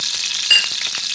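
Oil and ghee sizzle steadily in a pan while sesame laddu is being made, a continuous close frying hiss with light stirring clicks and no talking.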